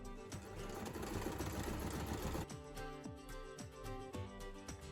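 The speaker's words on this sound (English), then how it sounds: "I'm gonna go ahead and sew these together." Sewing machine stitching bodice pieces of a Snow White ballgown together, a fast steady whir of the needle for a couple of seconds, then slower separate clunking stitches, close and fairly quiet.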